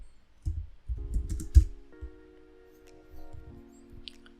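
Keys clack on a computer keyboard as a pip version command is typed, a short run of close, quick taps with a steady electronic tone in the background and no talking.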